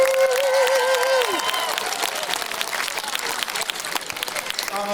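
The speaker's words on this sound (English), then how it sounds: "Give them a huge round of applause." A stadium crowd at an alumni band halftime show applauds and cheers, a dense wash of clapping. A voice rings briefly at the start before the clapping carries on alone.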